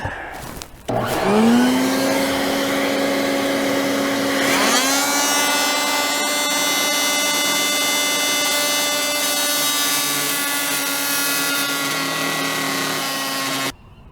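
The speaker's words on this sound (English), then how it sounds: "So, got my vacuum ready." A vacuum cleaner switches on and whines up to speed, then roars steadily and loudly nearby before cutting off.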